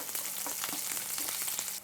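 Shallots and curry leaves fry in hot coconut oil after mustard seeds have popped, as the base for a Kerala squid peera, producing a dense, continuous sizzle with brief bursts of crackling and no voices.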